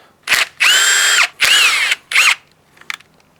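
Power tool driving jack bolts into an Atlas five-cylinder engine's timing cover, several short whirring bursts of the driver, loud and close, ending in faint clicks.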